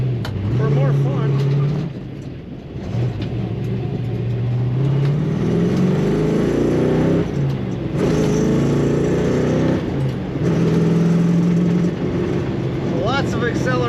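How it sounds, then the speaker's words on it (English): A 1969 Ford Mustang Fastback with a 428 engine and four-speed manual gearbox accelerating, its deep engine note rising and dropping through gear changes, loud and close, with rushing road noise underneath. "lots of accelerating power in this car, lots of fun"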